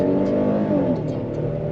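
A 2023 Hyundai Palisade Calligraphy SUV with H-Track all-wheel drive pulls away hard from a stop with traction control off, a steady, loud engine drone building briefly with no voices over it.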